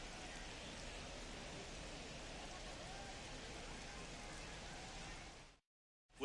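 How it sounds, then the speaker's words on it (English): Steady broadband hiss of rain falling at a baseball game, constant and fairly quiet throughout before cutting out near the end. "We are officially in a rain delay as they'll put the tarp on the infield and hope this one passes quickly"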